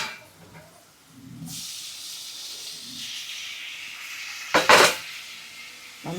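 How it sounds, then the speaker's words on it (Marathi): Chopped tomatoes drop into hot oil with browned onions for paneer bhurji, a soft steady sizzling hiss that starts abruptly, then swells into a brief louder burst before settling. "बघू शकता मस्त असं तेल गरम झालंय, त्याच्यात कांदा आपला ब्राऊन झालेला आहे. आता टाकूया टोमॅटो."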